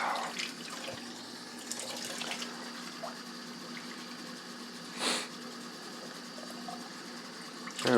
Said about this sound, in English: let's fill it up with water instead.